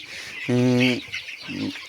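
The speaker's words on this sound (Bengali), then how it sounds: "মুরগিগুলো কীভাবে আনন্দ উল্লাসে গোসল করতেছে কাঠের গুঁড়ো দিয়ে" Sonali chickens dust-bathing in sawdust inside a poultry house give a loud, close cluck that rises sharply, then a softer second call a moment later over low barn noise.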